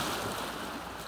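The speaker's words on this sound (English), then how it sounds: "It's waves that are turning over these rocks." Waves washing and turning over stones on a rocky Lake Superior beach, a soft continuous rushing hiss at low level with no voices.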